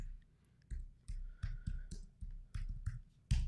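Rapid clacking keystrokes on a computer keyboard, a quick irregular run of sharp clicks in bursts, close and fairly quiet with no talking.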